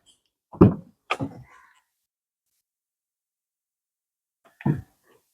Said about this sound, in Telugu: డోర్ సౌండ్ కూడా చాలా బాగుంది డోర్ వేస్తే